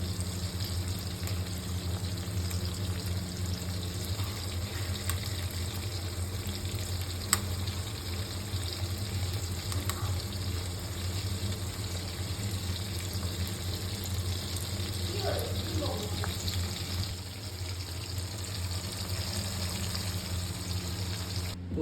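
Chicken pieces fry in a pan of oil for chilli chicken, giving a steady, close sizzle throughout with occasional light stirring and clinks.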